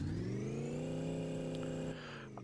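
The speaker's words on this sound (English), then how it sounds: "90 horsepower idling" A Slant 6 engine idles on a dyno in the garage-building game My Garage, giving a steady, smooth synthetic hum that drops slightly in pitch near the end.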